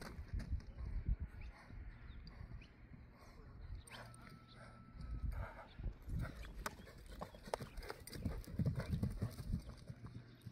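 Horse hooves clip-clop at a Kyrgyz horse market in Jalal-Abad region, with steady, fairly close hoof steps over outdoor noise and a dog barking and whimpering nearby.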